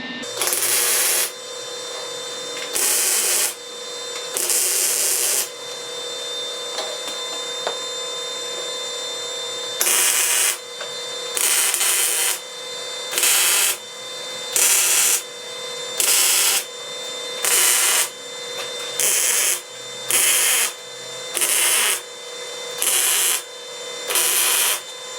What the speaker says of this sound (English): Right now, I'm just putting a bunch of tacks on it.